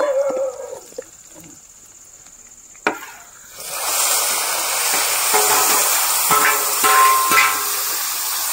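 Cumin, mustard seeds, curry leaves and garlic sizzle and crackle in hot oil, a loud steady hiss with scattered pops following a sharp clink, after quieter kitchen sounds.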